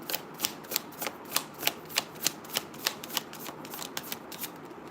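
Tarot cards being shuffled by hand during a live reading, a steady run of about fifteen crisp riffling snaps over a soft background hiss, close and clear with no talking.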